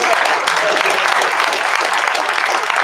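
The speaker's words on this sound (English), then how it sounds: "give these guys a round of applause" Audience applause at a retail marketing conference session, a dense, steady wash of clapping from a sizeable crowd lasting the whole short stretch, close and loud.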